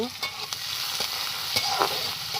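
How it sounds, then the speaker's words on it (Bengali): Chopped onion and panch phoron fry in oil, an even sizzling hiss punctuated by sharp stirring scrapes and spatula taps every half second or so, close and moderately loud, with no speech. "পেঁয়াজটা খুব ভালো করে ভেজে নেব"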